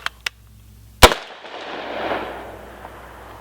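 Rifle shots from a 300 AAC Blackout firing store-bought subsonic ammunition: two small sharp cracks, then one loud close report followed by a long rolling echo across an outdoor range.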